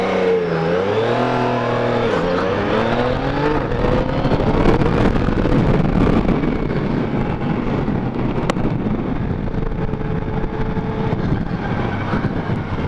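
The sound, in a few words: Yamaha Niken three-wheeled motorcycle riding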